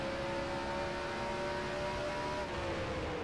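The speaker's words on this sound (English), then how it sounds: "Using all of third gear here, getting it slowed down with that engine braking from high third gear" A race car engine in NASCAR Racing 2003 on an Indy road course, droning steadily at high revs in third gear while engine braking slows it, the pitch easing slightly downward.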